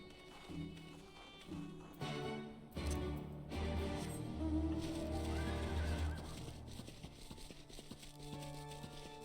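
A horse in Final Fantasy XIV gives a loud, drawn-out whinny with shifting pitch, followed by softer snorting and a second fading neigh, close and prominent with no talk over it.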